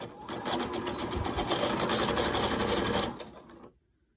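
A sewing machine stitches fabric for a grocery bag holder, running in a loud, rapid, steady whir for about three seconds before slowing and stopping into silence.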